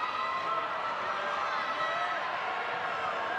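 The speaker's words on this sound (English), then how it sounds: "Crowd getting excited when the home side have the ball, for however brief it is." A steady, distant crowd roar fills the stadium at a women's international football match between England and Luxembourg, a continuous murmur with no clear peaks.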